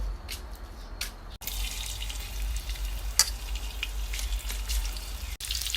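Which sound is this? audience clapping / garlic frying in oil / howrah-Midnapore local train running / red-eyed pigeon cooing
garlic frying in oil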